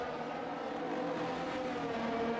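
Race cars lap the rubbered-in Zandvoort circuit, their engines a steady, loud, droning roar that holds without a break and has no voices over it.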